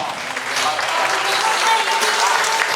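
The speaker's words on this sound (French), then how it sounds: "Sous vos applaudissements." Dense, steady applause from a parade audience in French Guiana, loud and close, filling the whole stretch without pause while faint voices sit underneath.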